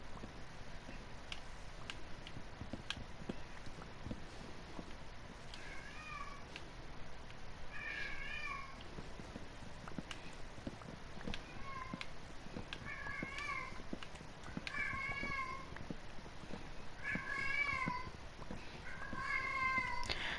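An unfixed female cat meows repeatedly indoors, short calls recurring every second or two over faint background noise with no talking.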